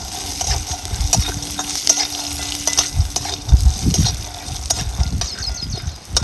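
Peanuts dry-roasting in a pan for curry leaf chutney, crackling and rattling as they are stirred, with a busy sizzling hiss, low scraping rumbles and occasional sharp pops, loud and close.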